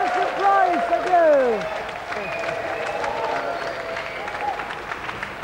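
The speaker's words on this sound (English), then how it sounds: "Another round of applause for our winner and a gallant loser, Christian Price!" A crowd claps and cheers for the winner of a snooker video game challenge, loud at first and then settling, with bright electronic tones sweeping over the applause.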